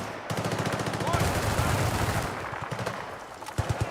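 Fast rhythmic automatic rifle fire from an AEK-971 in Battlefield: Bad Company 2, a steady close rattle of rapid shots with short separate bursts near the end.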